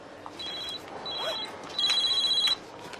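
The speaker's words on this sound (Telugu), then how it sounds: "ఫోన్ రింగ్ అవుతోంది." A telephone rings in a scene from a crime film, with bright electronic tones sounding in three short bursts, the last one longest and loudest, over a quiet room background.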